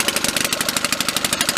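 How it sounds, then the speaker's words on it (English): A homemade air compressor built from scrap parts, with a gas engine and belt drive, runs loudly with a fast, even pulsing chug, close and steady. "So it's very loud with my homemade air compressor out of stuff I had laying around"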